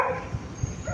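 A dog barks in a few short, soft bursts about a third of a second apart, heard at a moderate distance with steady background noise and no other sound.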